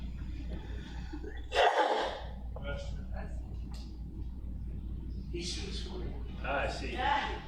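One loud sneeze bursts out early, followed by murmuring voices and breathy sounds in a room with a low constant hum.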